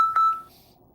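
A phone's text message notification gives two short, bright beeps in quick succession, the second stretching into a sustained tone before fading, close and clear with no talking.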